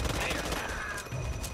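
Rapid bursts of video game gunfire crackle through a short, busy stretch, with a player's voice talking over the shooting.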